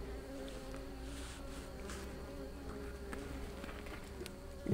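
A steady, dense hum of many honey bees buzzing around an open hive fills the air, continuous and close, with a brief louder rustle at the very end.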